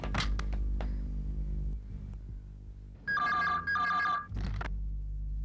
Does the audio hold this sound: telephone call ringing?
yes